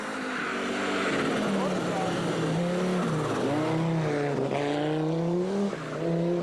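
A rally car tears past on a forest stage, its engine howling loud and close with pitch swings as it shifts and passes, while a commentator talks over it.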